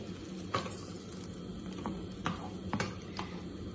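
Beaten eggs stirred into turnip cooking in a pan: a steady low sizzle with a few soft spoon scrapes and light clicks against the pan, close and alone.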